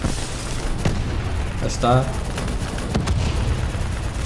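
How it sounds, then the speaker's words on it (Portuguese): Explosions and gunfire from an on-rails shooting sequence in Call of Duty: Black Ops III, sharp bursts and booms scattered across a few seconds with a short voice speaking briefly in the middle. "Disparar contra as coisas que fazem explodir, que é para tipo Hollywood style. Muitas explosões"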